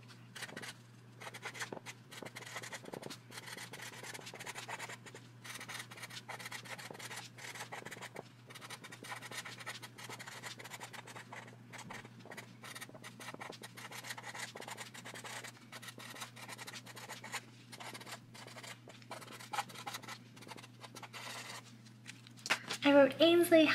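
A purple Sharpie marker writes on a small paper card up close, giving soft, intermittent scratchy strokes over a low steady hum, with a louder rustle at the very end.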